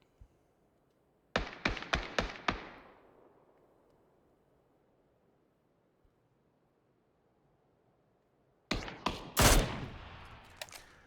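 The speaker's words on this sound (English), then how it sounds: "shots coming in" Gunfire rings out in a PUBG esports match: a fast volley of sharp shots with a reverberant tail, a long quiet lull, then another loud cluster of rapid shots near the end.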